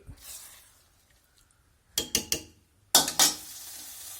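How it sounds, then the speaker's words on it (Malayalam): Onion and chilli tempering in hot oil for a curry: a soft opening hiss, then three sharp sizzling bursts followed by two louder crackling splutters as ingredients hit the pan, settling into steady frying. "ഉള്ളി മുളക് ഇട്ടിട്ട് ഉള്ളി താളിച്ച്"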